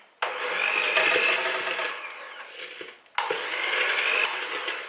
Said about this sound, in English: we are gonna mix the sugar and the butter, so it's gonna get a bit loud.